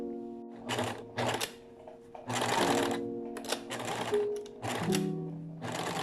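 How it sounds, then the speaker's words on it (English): A sewing machine runs a straight stitch in several separate bursts, securing elastic inside the channel of a summer backless dress skirt, with short pauses between runs and a low hum under the stitching. "Then I insert an elastic in the channel of the skirt and secure it with a straight stitch."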